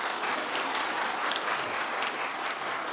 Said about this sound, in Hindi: तो सर लिए एक ताली बच्चों